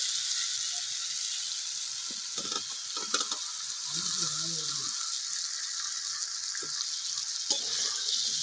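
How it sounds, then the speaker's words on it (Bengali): Fried potatoes and papaya pieces land in hot, sizzling masala for a moong dal and papaya ghonto, and a steady frying hiss runs under scattered scraping and clattering stirs of a spoon in the pan. "এবার আমি এর মধ্যে ভেজে রাখা আলু আর পেঁপেগুলো দিয়ে দিচ্ছি।"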